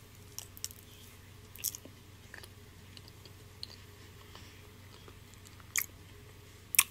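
Chewing a bite of Reese's peanut butter bundt cake with cream cheese frosting, quiet soft mouth sounds with a few sharper clicks scattered across several seconds, close to the mic and without talk.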